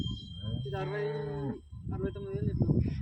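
Cows at a cattle market near Sardar Nagar, one giving a loud, drawn-out moo of about a second, with market chatter and background noise before and after.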